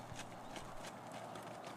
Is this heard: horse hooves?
yes